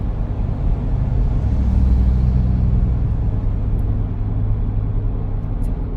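A Ford Everest accelerates along the road, heard from inside as a loud, steady low engine rumble and road drone that swells slightly partway through.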